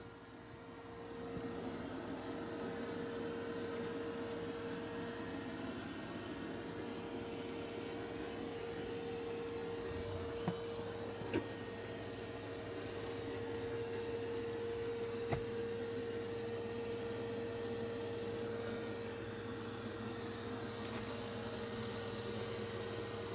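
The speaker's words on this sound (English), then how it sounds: "Doing an excellent job of vacuuming." A Dreame X60 Ultra robot vacuum cleaner hums in a steady, even drone with a constant tone, nearby and moderate, with a couple of faint clicks partway through.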